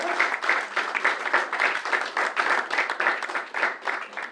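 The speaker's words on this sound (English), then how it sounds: "Everybody give him a round of applause as they come on down and join us" A crowd at a magic show in a lounge breaks into a round of applause, dense steady clapping sustained for several seconds at moderate loudness with no speech over it.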